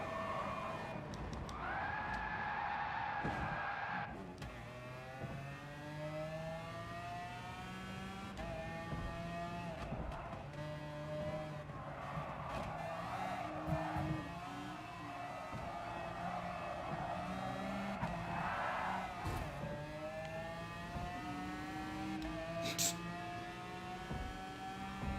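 Race car engines in a racing video game whine and rise in pitch continuously, layered tones shifting as cars accelerate, with brief squeals of tire skids, steady and moderately loud throughout.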